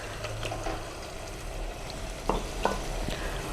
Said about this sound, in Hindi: थोड़ा सा अंडों के साथ भूनेंगे